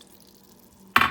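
Carne guisada being stirred in a pot, a brief burst of scraping and sizzling that starts abruptly near the end after near silence.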